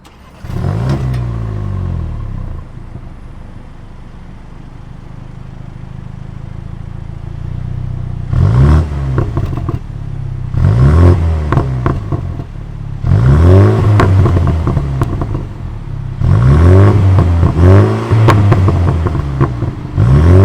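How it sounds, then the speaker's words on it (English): A 2022 BMW M235i Gran Coupe's 2-liter twin-scroll turbo engine fires up and idles with a low burble, then revs sharply several times in bursts, each rising roar falling back to idle. "let's fire up this 2-liter turbo and hear how she sounds"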